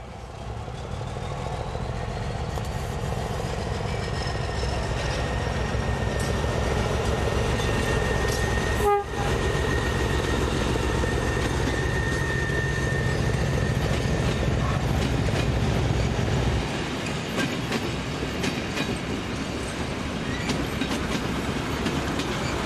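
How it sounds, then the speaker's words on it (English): Russian-built D-series diesel multiple unit pulling out of a station on an eastbound stopping service, with a loud continuous engine drone and rail rumble, a brief horn blast midway, and the low roar easing late on. "a Russian-built D-series diesel unit departs with an eastbound stopping service"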